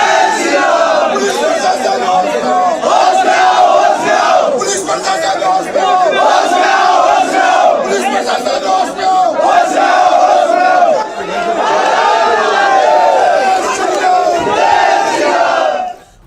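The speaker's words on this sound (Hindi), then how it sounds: "लोग बाहर खड़े होकर जय श्री राम के नारे लगा रहे थे" A large, loud crowd chants Jai Shri Ram slogans outside a house during a tense protest, with rhythmic shouting and overlapping voices filling the whole stretch without a break.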